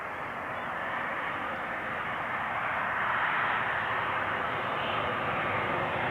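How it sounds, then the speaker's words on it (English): An Embraer E175 jet arriving from Bordeaux at Amsterdam Schiphol, a steady distant engine roar that swells gradually and slightly louder toward the middle, with no talk. "And another Embraer behind it, an E175 coming in from Bordeaux,"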